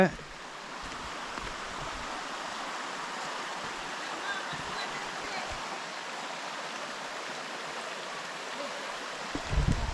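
Waterfall water at Aare Waterfalls near Chennai flows in a steady, continuous rush that stays even throughout, with a brief louder burst at the very end.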